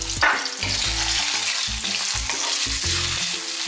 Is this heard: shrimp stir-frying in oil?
yes